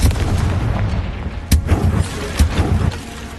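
Bombarda blast spells cast in Hogwarts Legacy, two sharp booming explosions about a second apart over a low rumbling game backdrop, with no talk.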